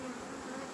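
Honey bees buzz steadily around hive frames during a spring swarm-prevention inspection, a dense, continuous close-up hum from many bees with no voices.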